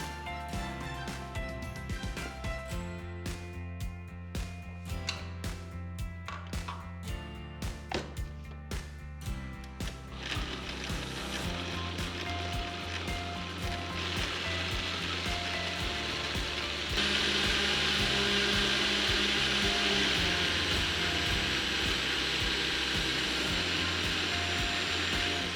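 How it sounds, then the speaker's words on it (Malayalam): A blender whirs through a berry smoothie with strawberries and coconut milk. A loud, steady motor roar starts partway in and grows louder and harsher near the end, after a stretch of clattering and tapping. "ഇതെല്ലാം കൂടെ ചേർത്ത് നന്നായിട്ടൊന്ന് ബ്ലെൻഡ് ചെയ്തെടുക്കാം"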